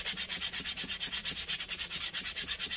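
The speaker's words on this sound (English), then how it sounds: "With a bit of sandpaper." Sandpaper worked back and forth to flatten the surfaces of a Stanley 4 1/2 plane, a loud, close, evenly rhythmic rasping stroke repeating about eight times a second without pause.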